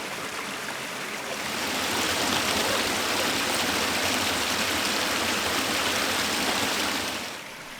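Forest stream water flows with a waterfall nearby, making a broad, continuous rushing roar. It is loud and steady, swells slightly after the first couple of seconds, then eases at the end.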